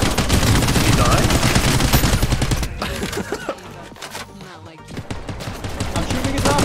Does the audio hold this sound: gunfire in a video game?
yes